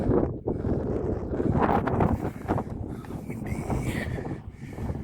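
Wind gusts on a hilltop during a hike, making a constant broadband roar as it buffets the microphone close up. No one speaks.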